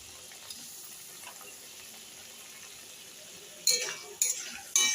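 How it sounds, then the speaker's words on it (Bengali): Potatoes and spices are stirred in a pan with a little added water for a Bengali fish curry, with a faint sizzle and then three loud scraping stirs near the end. "আলু দিয়ে আবার মশলাটা ভালো করে কষবো।"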